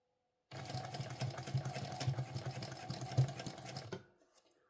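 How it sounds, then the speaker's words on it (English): A sewing machine backstitches at low stitch length on a Fielder sling pouch, a close, steady rapid whirring chatter for about three and a half seconds before stopping abruptly. "You do want to backstitch at the beginning and the end."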